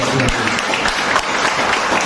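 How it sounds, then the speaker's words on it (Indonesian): Congregation applauding during a church service, a loud, dense burst of many hands clapping together, steady and close for the whole stretch with murmured voices underneath. "Tepuk tangan."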